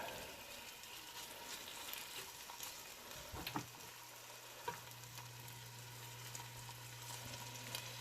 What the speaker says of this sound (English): nice little sizzle going